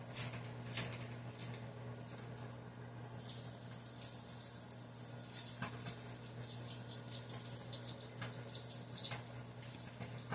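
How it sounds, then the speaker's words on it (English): Tap water runs steadily into a kitchen sink as a spoon coated in hoisin sauce is rinsed off, a continuous close splashing flow with small clinks over a low hum. "I just had to go rinse the spoon off so the sauce wouldn't stick on it and everything"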